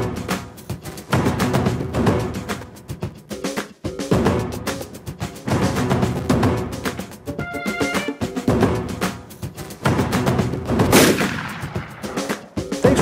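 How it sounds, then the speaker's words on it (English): AMT Government 1911 .45 ACP pistol fired repeatedly, sharp loud shots in rapid rhythmic strings with echo, continuous throughout with no talk. "today we're bringing out the heavy metal. John Moses Browning's absolute classic, the 1911 45"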